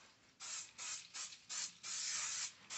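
Cooking spray hissing onto tilapia fillets in several short close bursts, the last one the longest, with no voices over it.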